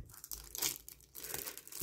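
Plastic packaging on a Yu-Gi-Oh structure deck crinkles and tears in short, close bursts as scissors cut through it, with brief quiet gaps between the cuts.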